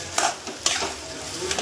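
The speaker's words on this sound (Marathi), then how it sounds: "हे बघा चांगलं मिक्स करून घ्यायचं आधी" Boiled potatoes for samosa filling being stirred and mixed in a pan: soft scraping and a few sharp spatula knocks against the metal over a faint steady hiss.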